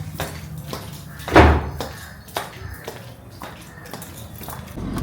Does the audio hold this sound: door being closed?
yes